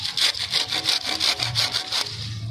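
A hand saw cuts through a cassava stem with steady, rhythmic back-and-forth rasping strokes, close and loud, with no talking.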